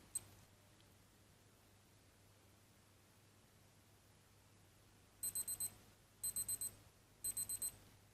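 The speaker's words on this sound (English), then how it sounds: "once it reaches 0, like I said, it's going to beep and flash" A Casio G-Shock GD-120 countdown timer beeping at zero, three quiet bursts of rapid high-pitched electronic beeps, each a cluster of four, after several seconds of near silence.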